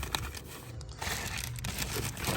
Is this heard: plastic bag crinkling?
yes